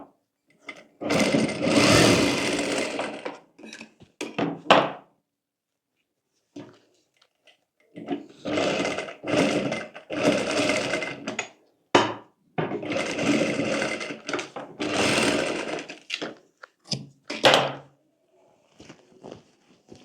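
A sewing machine stitches along both sides of blouse fabric in repeated short bursts of a few seconds each, separated by pauses, close and fairly loud with no talking over it.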